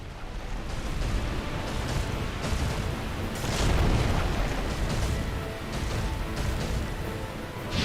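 Dark Souls Chaos Fire Whip pyromancy: repeated fiery explosive bursts and booms layered into a dense, roaring rumble, peaking in the middle and continuing loudly to the end.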